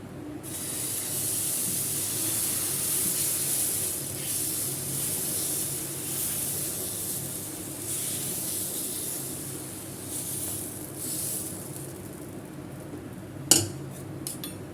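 Beetroot dosa batter sizzles on a hot pan with a steady, bright hiss lasting the whole stretch, rising and easing slightly, then a sharp metallic clatter of a utensil just before the end.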